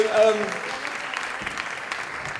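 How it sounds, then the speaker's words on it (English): Moderate applause from a workshop audience for a first team, a brief scattering of clapping that stays fairly soft, with a voice briefly at the start. "Round of applause for our first team."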